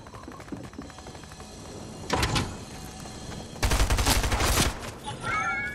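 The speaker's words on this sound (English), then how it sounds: "I'm shooting a llama" Gunfire in Fortnite as a player shoots at a llama, heard as a dense burst around two seconds and a longer loud volley near the end, over steady game ambience with a brief rising tone at the close.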